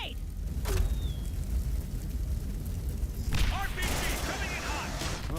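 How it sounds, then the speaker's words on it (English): Grenade blast in an alien-fighting shooter video game, a rumbling boom set amid ongoing gunfire and battle noise, with voices partly audible over it. "Grenade!"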